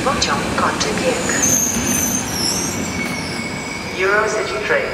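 A Husarz electric locomotive hauling the EIC 102 Polonia Eurocity passenger train pulls into Warszawa Wschodnia station with a steady, close rolling rumble and intermittent high wheel squeals, while a voice is faintly audible beneath.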